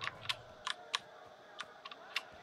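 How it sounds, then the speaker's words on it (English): Mechanical keyboard keys clack in sharp, irregular taps, about nine distinct clicks spread unevenly, close and crisp against a quiet game backdrop during a S.T.A.L.K.E.R. session. "I use a mechanical keyboard, so it's a little on the loud side."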